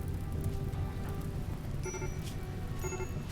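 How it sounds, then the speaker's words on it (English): Steady rain falls in RimWorld, a dense, even hiss of downpour that fills the scene, with a few soft sustained tones drifting over it. "just as I said that, it started to rain"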